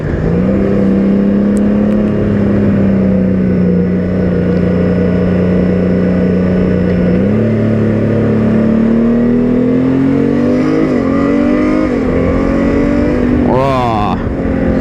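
A 2022 Honda Gold Wing 1800 DCT motorcycle engine drones steadily while riding, its pitch climbing in stages as it revs through gears, loud and continuous under wind, with a brief sharper rev burst near the end.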